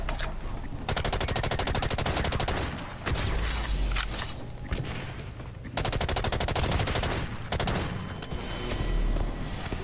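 Assault rifle fire in the video game Blacklight Retribution rattles in long rapid automatic bursts, loud and close, broken by short pauses between strings of shots.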